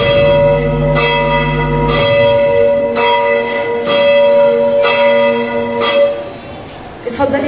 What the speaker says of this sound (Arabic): ورن الجرس بسرعه